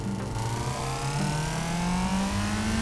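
A 900HP Fiat Panda's engine in Gran Turismo 4 revs steadily higher, its whine climbing continuously in pitch, loud and sustained throughout.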